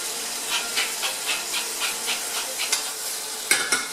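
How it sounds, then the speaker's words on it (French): Carrot purée browning in butter in a pan over moderate heat: a soft, steady sizzle and hiss with rhythmic stirring scrapes about twice a second, close by, and a couple of sharper clacks near the end. "notre purée de carotte est en train de rissoler"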